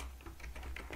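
Text is typed steadily on a computer keyboard while writing a word in a Word Art box, a quick run of close, light key clicks over a constant low hum.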